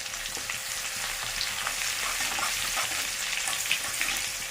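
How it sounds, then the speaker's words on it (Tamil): Crushed garlic frying in oil in a pan in a home kitchen, a steady close sizzle and crackle with small pops, continuous and fairly quiet, with no voices. "இந்த பூண்டு அதில் போட்டுறேன். பூண்டு நல்லா பொரியட்டும்"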